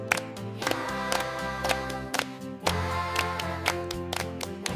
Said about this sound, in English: Raise your hands with me, all of you. And clap.